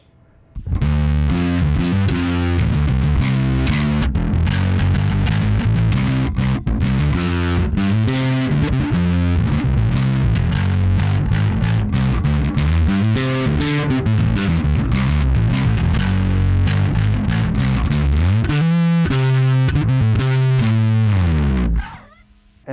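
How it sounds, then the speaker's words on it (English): An electric bass played through a Fender Bassman fuzz pedal set to high-gain modern fuzz, with a compressor and driver also in the chain, chugs out a loud, heavily clipped, dirty riff for about twenty seconds with no talking. "that is on that higher gain or like more modern fuzz"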